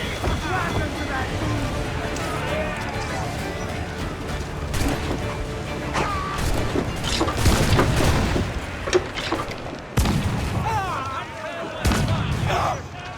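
Ship cannons firing during a naval battle against brigands and Spaniards in Assassin's Creed Black Flag, loud heavy booms and crashes mixed with shouting voices, waves and battle noise, including a sharp blast near the end.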